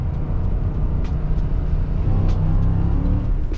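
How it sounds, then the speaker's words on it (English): Ford F150 with a 5.0L V8 running, a steady deep rumbling drone heard close from inside the vehicle, continuous and loud with no talk. "the cam phasers will shift again and they'll actually retard the engine timing, making the engine louder"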